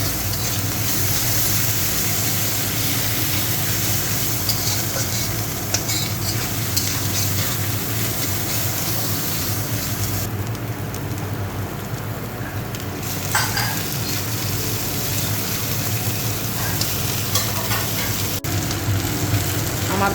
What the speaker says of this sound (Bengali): হলুদ দিয়ে দিচ্ছি, নেড়ে মিশিয়ে নেব।